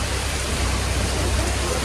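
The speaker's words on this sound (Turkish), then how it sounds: "Yağmur durmaz dostlar. Anlatmaya gerek yok, görüyorsunuz. Şırıl şırıl yağıyor." Heavy rain pours steadily on a street in India, a dense, loud, even hiss of drops with no breaks.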